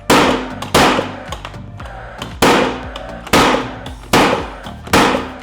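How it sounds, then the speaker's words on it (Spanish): A battery-powered framing nailer fires nails in quick succession, each a sharp, loud crack, about seven shots in under six seconds with short tails of ringing between them. "Vamos a ver qué tan rápido podemos disparar unos cuantos clavos acá."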